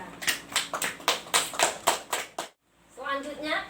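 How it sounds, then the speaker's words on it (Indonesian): A classroom group claps for group 2's presentation, a burst of rhythmic, fairly close clapping lasting a couple of seconds, then a brief silence and a voice speaking. "Sebelumnya tepuk tangan buat kelompok 2."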